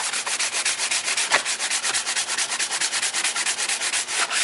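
Long back-and-forth strokes of sandpaper run along a PVC flute, a steady rhythmic rasping that repeats evenly, loud and close with no voices.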